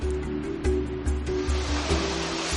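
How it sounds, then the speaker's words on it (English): Sipi Falls in Uganda, where water plunges about 100 meters over rock, gives a constant rushing hiss of falling water, loud and close, with faint rhythmic tonal pulses beneath and no speech. "The magnificent Sipi Falls."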